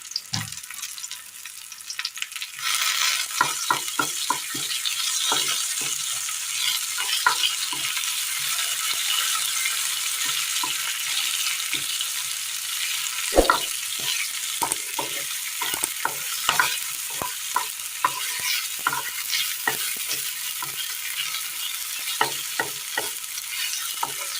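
Tomatoes sizzle in oil in a pan while being stirred, with curry leaves dropped in; steady close frying hiss with frequent soft scraping and clicks of a utensil throughout.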